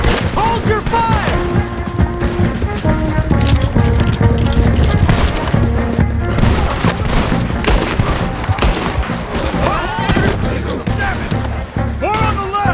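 Battle gunfire from Red Dead Redemption 2, with dense volleys of shots layered under a loud game score and shouting voices, continuous and busy throughout.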